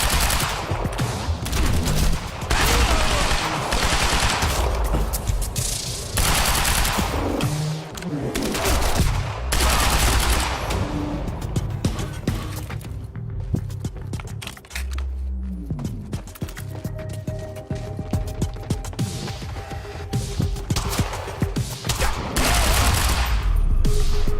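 Dense gunfire in Quantum Break fills the scene, with rapid bursts and sustained automatic fire crackling loudly and almost without pause, layered with impacts and debris.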